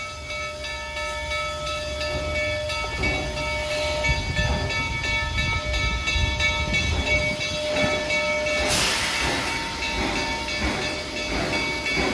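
An old steam train at a family tourist attraction hisses and rumbles steadily, with tonal whistle-like hums and a sharp burst of steam near the end, moderately close, no voices.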